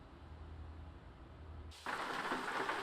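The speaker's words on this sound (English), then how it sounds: "It's raining in the early hours." Rain in Euro Truck Simulator 2, a quiet rumbling ambience that suddenly swells into a loud, dense wash of steady rainfall partway through, with no one talking.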